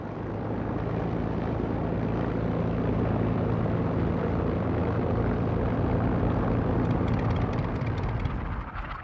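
RAF Spitfire fighters of a Norwegian unit flying from bases in Scotland, a loud continuous engine drone with a steady low rumble that holds throughout and eases slightly at the end.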